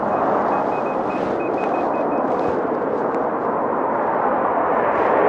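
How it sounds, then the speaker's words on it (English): An electric unicycle's rapid series of short, high warning beeps chirps faintly over loud, steady wind and road rumble on a London highway, then stops partway through. "I heard some beeps from the wheel."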